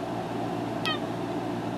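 A single short cat meow, quiet but clear, over a steady low background hum in a truck camper.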